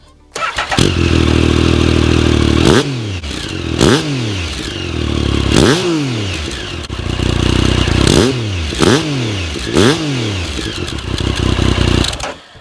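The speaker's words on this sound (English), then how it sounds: "this one's had the Arrow exhaust fitted to it, a really, really popular upgrade on this type of bike" A Triumph Tiger motorcycle with an aftermarket Arrow exhaust starts and is revved repeatedly, each loud rev rising then falling back to a rumbling idle, close by and throaty.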